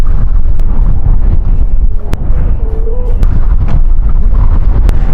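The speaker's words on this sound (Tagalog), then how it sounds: "Grabe hangin dito guys." Strong wind buffets the microphone on a curvy mountain road ride by e-bike on the Gabaldon–Dingalan route, a loud continuous low rumble with occasional sharp gust thumps throughout.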